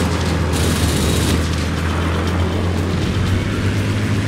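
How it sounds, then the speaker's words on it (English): Rockets fired from a warplane in the World of Warplanes video game, heard as dense booming bursts over a constant loud engine drone, with no talking. "I'm going to try and fire off some rockets to try and hit that guy with some."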